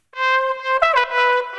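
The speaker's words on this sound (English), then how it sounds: "On top of that we'll find the lead trumpet, which sounds like this" A lead trumpet line in a dance track plays a bright, sustained melodic phrase, clean and close with a few note changes, heard in isolation without drums or talking.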